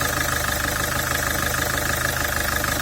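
A Citroen Jumpy van engine idles right after a fuel filter change, running with a loud, even, close-up hum and a steady rhythmic pulse, with no one speaking.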